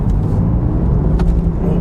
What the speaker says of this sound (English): Squeezing the throttle. Boy, it's got some grunt to it.